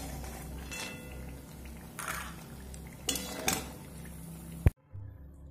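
Fried lentil bori moved from hot oil into a pot, soft scraping and clinking of a utensil against metal with a light sizzle underneath, ending in one sharp clank before quiet.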